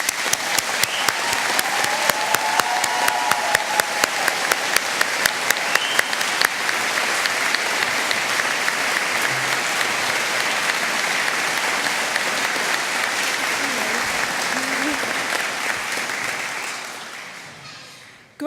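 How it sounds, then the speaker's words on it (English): Sustained applause from a large audience at a university graduation ceremony honoring the class of 2017, Faculty of Medical Science, steady and dense throughout before tapering off at the end. "join with me in applauding the class of 2017 Faculty of Medical Science"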